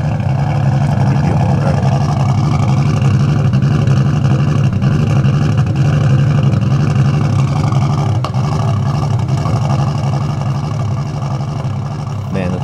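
A Nissan Skyline engine idles roughly and steadily on a dyno just after first firing, with cam sync being set up on an AEM Infinity and one cylinder's spark plug fouled; a loud, continuous low rumble with an uneven pulse throughout.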